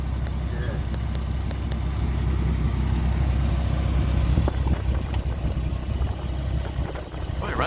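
A 1982 Ford Granada idling after oil-leak repair work with an exhaust leak, a steady low engine rumble held evenly the whole time, close by, with a few faint clicks and knocks over it.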